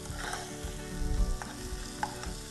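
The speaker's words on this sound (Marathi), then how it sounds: "बारीक चिरलेला कांदा आहे ना, तो मस्तपैकी हलकासा ब्राउनिश झालेला आहे।" Finely chopped onion frying in a pan until lightly browned, a close steady sizzle broken by scraping stirs and a few clicking knocks, with no voices.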